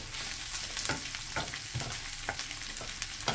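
Oil sizzling steadily in a pan, sautéing for a lechon sauce made with Mang Tomas and chili, with periodic clinks and scrapes of stirring over a continuous close hiss and no talking.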